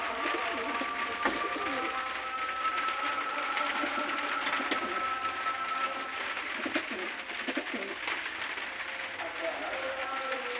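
Malwai pigeons cooing in a loft, a continuous dense chorus of soft rolling coos from many birds, with someone talking over them.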